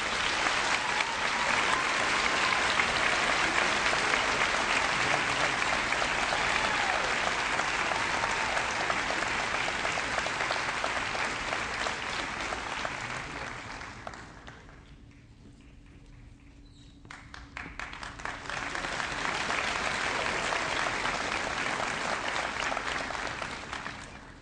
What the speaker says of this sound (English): ask that you join us in another round of applause for them